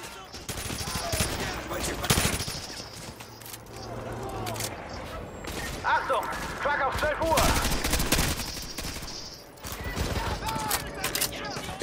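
Bursts of TAR-21 assault rifle fire ring out in Call of Duty Modern Warfare 2 Remastered, rapid repeated volleys with game mechanics and impacts, loud and close, while a player talks over them.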